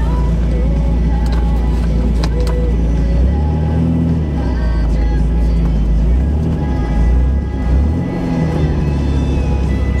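An MG classic car engine hums steadily on a road at the start of an evening 100-kilometre club drive, with low rumbling swells as it pulls away and gathers speed, loud and close throughout.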